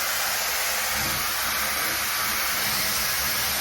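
A Dyson Airwrap Coanda 2X hair dryer runs at full power, giving a steady, loud, broadband rush of airflow that holds constant from start to finish with no talking.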